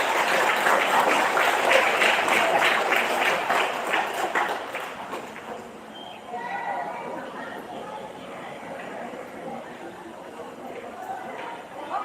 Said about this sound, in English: let's all welcome Madam Erlinda E. Ranches with a round of applause